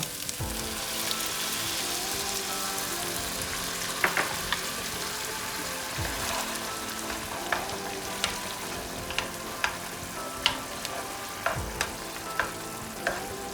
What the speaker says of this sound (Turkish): Şimdi enginarla birlikte biraz daha kavurmaya devam edeceğiz.